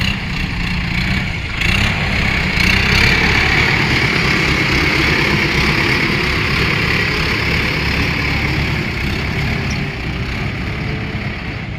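Heavy earthmoving machinery, a backhoe or excavator alongside dump trucks, runs steadily at a worksite as it smooths and shapes soil, its low diesel rumble continuous and fairly loud throughout with no voices.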